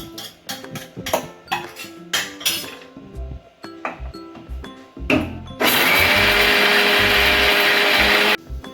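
Mixer grinder blending pirandai (adamant creeper) chutney with mustard seeds, urad dal and chana dal, starting with clinks and short bursts, then a loud steady whir for about three seconds before stopping.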